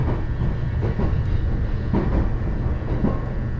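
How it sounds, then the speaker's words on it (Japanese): A train pulls into Murakami station on the Uetsu Main Line with a continuous rumbling roar and faint rhythmic rail clicks, steady and fairly close throughout. "終点の村上です。 2番線に到着いたします。"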